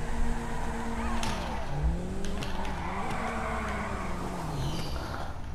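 A tuned Karin Futo car drifts in GTA V, its engine revving and wavering as the tyres squeal through the slide, loud and close with pitch rising and falling, alone with no talk.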